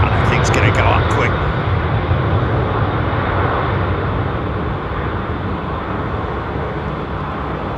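A jet airliner powering up for takeoff at London Heathrow Airport, its engine roar loud and steady throughout, with a brief burst of voices near the start.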